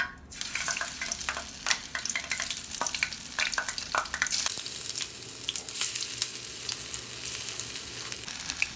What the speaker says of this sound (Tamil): இப்போ எண்ணெய் காய்ஞ்சிருச்சு, போடுறோம்